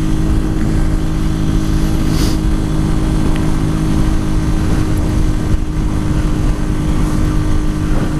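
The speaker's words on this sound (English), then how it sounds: "It's actually running pretty good, the motorbike, at the moment." A motorbike engine hums loud and steady while riding at about 40, a low constant drone with wind rush and no pauses or speech.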